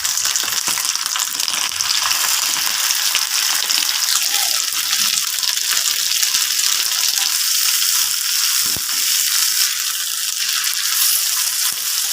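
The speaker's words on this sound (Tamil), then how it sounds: "நான் வந்து தேங்காய் எண்ணெயில் தான் வந்து ஃப்ரை பண்ணுறேன்" Masala-coated fish fries in hot coconut oil with curry leaves, giving a loud, close, continuous sizzle and crackle that stays steady throughout with no voices.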